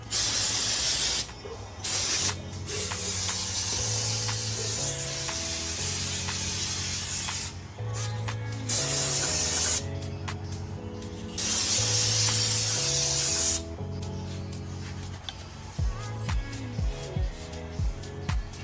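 Repeated bursts of aerosol cleaner spraying onto a dirty brake caliper, hissing up close, several long sprays separated by brief pauses, over a low steady background hum.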